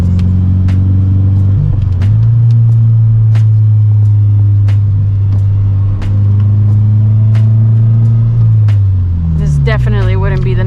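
A 2014 Subaru BRZ's exhaust drones loud and steady from inside the cabin while driving in rain, with the note rising and falling through gear changes and revs climbing sharply near the end.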